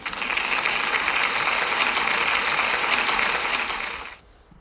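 Steady applause rises for a pupil at a school celebration, many hands clapping evenly and continuously at moderate volume before cutting off abruptly near the end.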